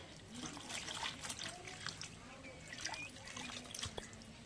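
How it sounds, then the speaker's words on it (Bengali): Water is poured into a cooking pot of curry, a faint, continuous trickling and splashing with small drips throughout. "এখন একটু পানি দিই"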